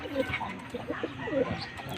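Racing pigeons, young birds in a loft, coo softly in overlapping low calls over about two seconds, close by, with no talk.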